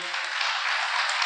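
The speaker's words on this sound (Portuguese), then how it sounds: "dê um aplauso ao Senhor." Church congregation applauding during a Portuguese-language sermon, a steady dense wash of clapping held throughout the short moment with no talk over it.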